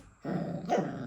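A pet dog growls and gives a short bark on command indoors, close up. A low rumbling growl starts after a brief pause and swells into a sharper vocal burst near the end, with no talking over it.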